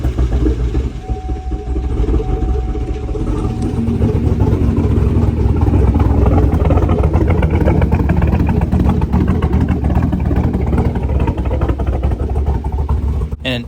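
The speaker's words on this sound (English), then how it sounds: "the car sounded kind of weird or odd while it was idling" A Chevrolet Camaro with a swapped cam idles with an odd, uneven note linked to a failing passenger-side catalytic converter; the engine rumbles loud and close throughout with a steady low throb.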